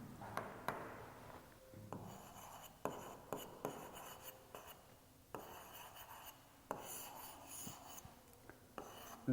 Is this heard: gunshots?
no